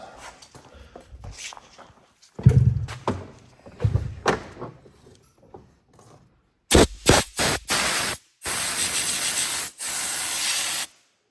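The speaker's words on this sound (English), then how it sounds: "I got the compressed air here, blow that all off and keep going here" Compressed air blasts blowing debris off a Ford Edge 3.5L engine during spark plug work, several short hissing bursts followed by two longer sustained blows, close and loud after some handling and rubbing noises.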